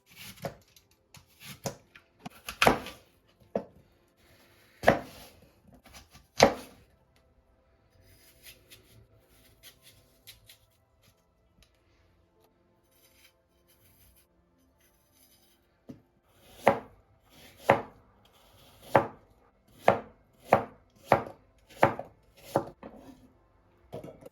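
Knife cutting apples on a board, sharp crisp chops in irregular clusters, then a quiet pause and a steadier run of evenly spaced cuts, close and clear without talk.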